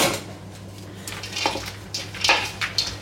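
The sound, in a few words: mixing prunes, pork belly and raisins in a bowl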